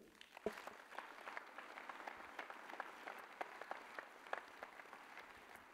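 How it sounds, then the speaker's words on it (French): Audience applause after the mayor of Voiron's 2024 New Year speech singles out a group, a quiet, steady patter of many hands clapping in a hall, heard from a distance without talk. "Je crois qu'on peut les applaudir."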